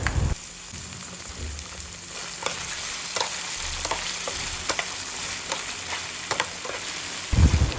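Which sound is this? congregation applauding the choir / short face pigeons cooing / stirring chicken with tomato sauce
stirring chicken with tomato sauce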